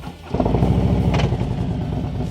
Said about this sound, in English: So let's go ahead and start up the bike.